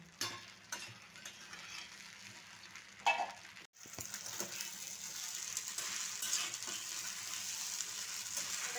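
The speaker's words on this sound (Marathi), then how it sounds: "शाबू तांदूळ घातलेले आहेत त्याच्यामध्ये फोडणीमध्ये आता आपण याला मिक्स करूया" Steady crackling fry with scraping stirs as soaked sago is mixed into a hot tempering in a pan, a brief louder clatter early on, then a continuous dense sizzle; no voices.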